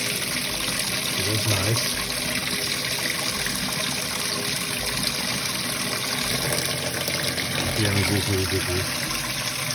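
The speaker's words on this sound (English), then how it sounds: "you can see the water is being ejected the other way." Water jet spraying out of a prototype micro hydro turbine, a Tesla or Pelton style generator, running as a steady broadband rush throughout, with people talking over it.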